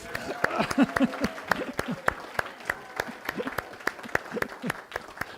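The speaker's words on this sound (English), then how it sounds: "So now let's give him a round of applause." Audience applauds a young performer, the clapping fairly sparse and uneven with distinct sharp claps standing out, while a few voices talk over it.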